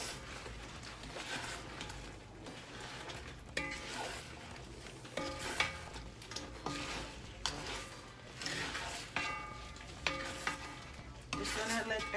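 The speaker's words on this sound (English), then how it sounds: "we're gonna add our chicken pieces. We're just gonna combine this in the" Chicken pieces stirred into sesame sauce in a sizzling pan, a soft continuous fry with repeated scraping strokes from the utensil, close and fairly quiet, with no talking.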